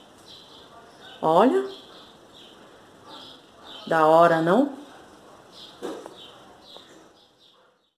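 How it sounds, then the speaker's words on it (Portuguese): Small birds chirp faintly and steadily in the background of a home in the morning while a person speaks a couple of short phrases in Portuguese nearby. "E olha que gostoso, gente, o barulho dos passarinhos."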